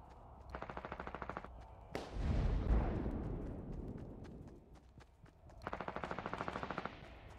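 A heavy automatic weapon in Fortnite fires two rapid bursts of evenly spaced shots, separated by a loud rumbling blast and its long decaying roar, with no talk.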